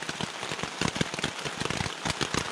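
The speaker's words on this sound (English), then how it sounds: "listen to that rain" Heavy rain falls steadily on the Appalachian Trail, a dense, close patter of drops striking a surface with no voices.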